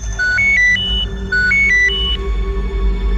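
A phone ringtone plays alone, a repeating electronic melody of stepped tones, loud and close, cycling twice with a short pause between phrases.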